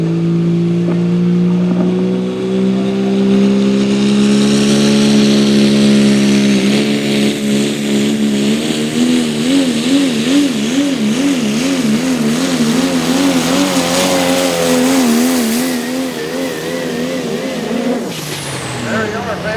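Gold 6-liter Ford pulling truck called Chapter 11 at a truck and tractor pull, its engine roaring loud and close, revs climbing and wavering over a long sustained pull before cutting off near the end, with an announcer talking over it.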